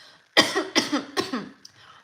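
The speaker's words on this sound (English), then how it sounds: "That was not like a sick cough, that was a throat block." Three quick harsh coughs in a row from a throat blockage rather than illness, close and loud, followed by a brief quiet tail.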